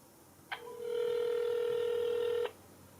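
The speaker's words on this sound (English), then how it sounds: "I can actually dial any number I want and actually make a phone call" A Vibeat IDW15 smartwatch places a Bluetooth phone call, giving one sustained electronic call tone of about two seconds with a sharp start and end, clear and close over faint background hiss.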